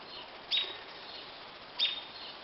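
Two short, bright bird chirps about a second apart over a quiet, hissy outdoor background.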